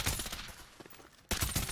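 Dense bursts of automatic gunfire in the battle-royale shooter Farlight 84, loud and continuous with a brief lull, then a heavy volley resumes.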